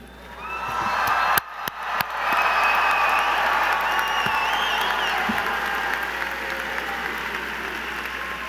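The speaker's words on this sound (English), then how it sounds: "please rise and cheer loudly." Engineering degree candidates at a Georgia Tech spring commencement rise with loud, sustained applause and cheering, a dense crowd roar that swells after a few sharp opening claps and stays strong, easing slightly toward the end.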